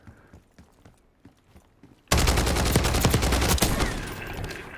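Sustained automatic gunfire in Call of Duty bursts in loudly after about two seconds of faint, sparse clicks and footsteps, then keeps firing dense, rapid volleys for the rest of the stretch.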